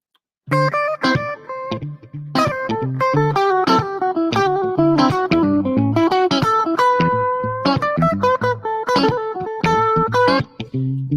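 Electric guitar plays jazzy blues licks in A over a steady New Orleans groove backing loop, with bent notes and short phrases ringing out clearly, no talking.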